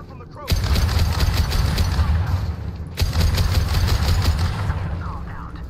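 Ship weapons fire in Mass Effect 2 Legendary Edition, opening abruptly and roaring on as a dense, sustained barrage of booming blasts with a second burst hitting about halfway through, loud and close.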